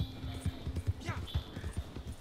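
Horse hooves clip-clopping in the video game Red Dead Redemption 2, a quick regular trot of close, distinct hoofbeats over a short stretch, with a faint voice in the background.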